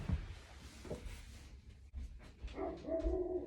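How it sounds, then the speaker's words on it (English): A dog barks at night indoors, a few sharp barks and whimpery yelps at close range, with some rustling and movement around them. "Hey, it's nighttime. Don't bark."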